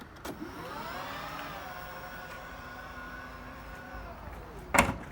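Power tailgate lift motors on a Volvo XC60 whine steadily as the hatch moves, the tone sliding slightly before stopping with a short clunk near the end; close, fairly quiet, no speech.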